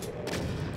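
Rapid chaingun fire from a chaingunner enemy in a Doom-style shooter, a dense continuous rattle of shots, fairly loud and close, with no voices over it.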